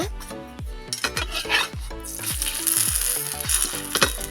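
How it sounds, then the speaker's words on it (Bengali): A vegetable roll lightly oiled on a hot tawa gives off a soft, hissing sizzle that becomes more noticeable about halfway through, beneath repeated plucked musical notes. "আমি তাওয়ার মধ্যে দিয়ে দিচ্ছি আর আমি হালকা করে তেল ছড়িয়ে দেবো"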